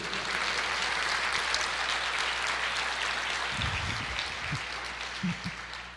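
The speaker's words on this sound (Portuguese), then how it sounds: "Glória a Deus, aplauda o Senhor" A church congregation applauds during a sermon, a dense steady wash of clapping filling the room, with a few low thumps near the end as it tapers slightly.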